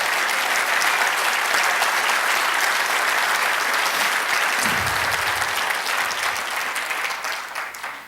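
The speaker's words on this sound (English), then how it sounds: "I want to hear a little round of applause." Steady crowd applause from an audience at a State of the City address for Cathedral City, a thick even rush of clapping that tapers off slightly toward the end.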